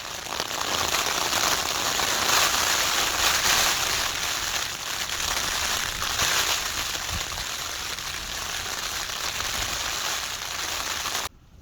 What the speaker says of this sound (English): That is the rain coming down,